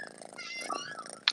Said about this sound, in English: I can hear somebody's cat.